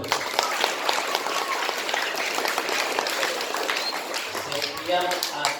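Audience clapping during a lesson on an Islamic legal text, a dense and continuous wash of many hands at moderate volume, with faint voices mixed in near the end.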